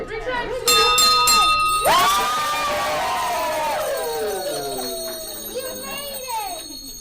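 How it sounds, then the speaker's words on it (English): A bell rings out at a children's hospital with a bright struck tone that rings on and decays, several strikes near the start, while people cheer and talk around it. "Ring the bell."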